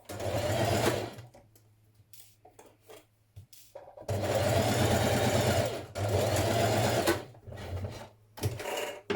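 A sewing machine stitches a seam on a Simplicity 8875 summer dress, running in close, loud bursts: a long run, a quiet pause with small handling sounds, then another sustained run and a short final spurt.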